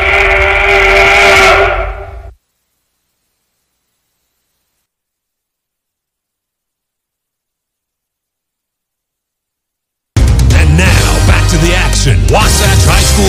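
A train whistle sound effect in a Dairy Queen radio ad opens loud with a tonal steam-style blast lasting about two seconds, followed by dead silence, then dense loud program audio returns.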